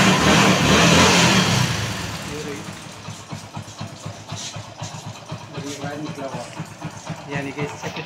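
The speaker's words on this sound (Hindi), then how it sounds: "गाड़ी हमारे स्टार्ट है।" A motorcycle engine, freshly fitted with a new spark plug, fires up with a loud burst and then settles into a steady, pulsing idle that carries through to the end.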